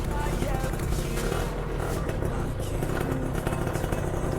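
A 2001 Suzuki 120R two-stroke motorcycle runs steadily up close as a loud, continuous engine drone for the whole stretch, with a person talking over it.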